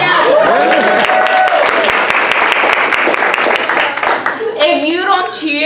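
A dinner crowd at a scholarship award banquet claps and cheers loudly and steadily for an honoree, with whoops rising above the applause and a voice speaking near the end.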